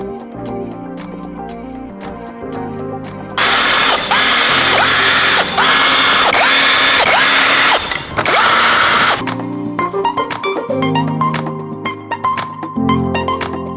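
Tool ratcheting loose the cylinder head bolts on a Volkswagen Golf 7 GTI engine under rebuild: loud, close bursts of rapid clicking and grinding clusters in the middle, with sparser ticks and knocks before and after.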